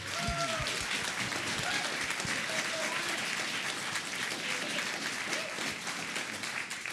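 An audience at a sheriff's debate and mayoral town hall applauds steadily as candidates are welcomed, a dense, even wash of clapping with a few faint voices mixed in.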